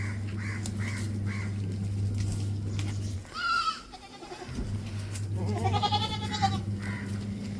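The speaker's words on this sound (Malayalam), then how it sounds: "2ാം പ്രസവത്തിലൊരു മലബാരി ആട്" A Malabari goat in her second kidding bleats in several short calls while a steady low hum runs beneath, with crow-like caws also heard at a farm in Valanchery.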